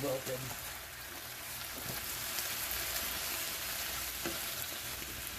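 Garlic spinach wilts in a pan with a steady moderate sizzle and occasional stirring scrapes, heard up close while a voice talks faintly underneath.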